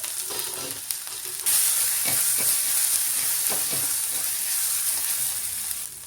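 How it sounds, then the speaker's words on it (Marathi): Ground masala paste hits hot oil with a little cumin for vada rassa, the sizzle jumping abruptly loud and holding as a dense hiss, with occasional spoon scrapes through the paste. "तर त्यात मी थोडेसे जिरे टाकलेले आहेत, अगदी थोडेसे टाकलेले, खूप नाही टाकायचे। आणि टाकून घ्यायचं आपण केलेलं वाटण।"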